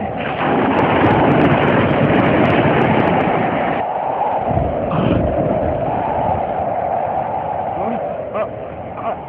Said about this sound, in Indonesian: Badai tiba-tiba datang dari arah belakang kapal